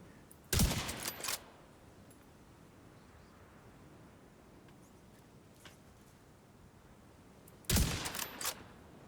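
Two short bursts of rapid video game gunfire, each about a second long and several seconds apart, over quiet background hiss with faint clicks in between.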